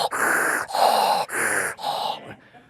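A comedian voices an imitation of Darth Vader-style breathing through a sleep apnea mask: four loud, raspy, close breaths in a steady in-and-out rhythm, trailing off at the end.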